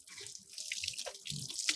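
Water sprayed from a hose onto buffaloes at a buffalo market in Hyderabad, a faint hissing splash with uneven bursts of spray over a short span.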